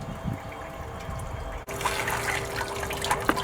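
Water from a 12-volt bilge pump, run off a small motorcycle battery charged by a solar panel, splashes and trickles into a gold sluice. The flow is a steady, moderate liquid wash that sounds close, with a low hum beneath and no talking.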